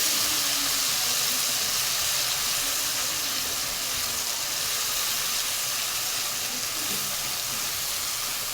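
Ground spice paste sizzles steadily in hot oil as it is sautéed for rasam, giving a continuous, close hiss and crackle with no pauses and no speech.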